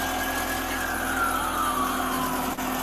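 A police car siren wails and slowly falls in pitch over a steady engine hum, with a brief thump near the end.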